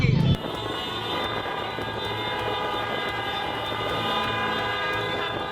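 Vehicle horns blare in a long, continuous chorus from homebound travellers stuck in a severe traffic jam at the ASDP Merak ferry port, honking in protest. The sustained, overlapping horn tones hold steady and loud with no voices.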